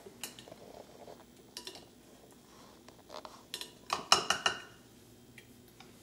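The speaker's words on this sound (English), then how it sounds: "You'll press down with a spoon to get the final bits of liquid" A metal spoon presses boiled herbs against a strainer, giving scattered clinks and scraping taps that grow louder and denser toward the end.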